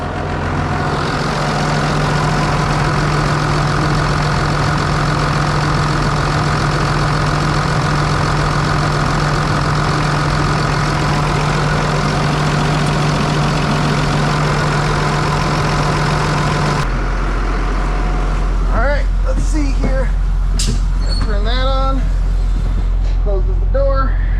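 A Freightliner Thomas Built school bus engine idles with a steady low drone, then the tone shifts as it pulls away, while someone talks over the running engine near the end.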